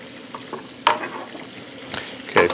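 Scallops basted in a pan of butter with thyme and garlic: a steady close sizzle broken by a few sharp spoon scrapes and clinks against the pan, with no voices.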